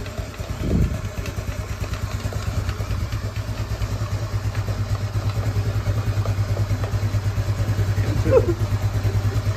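A bored-up Yamaha Nouvo scooter fitted with an ASBRT exhaust idles close by, a steady, rapid low putter that stays loud and even throughout, with a couple of brief voice sounds over it.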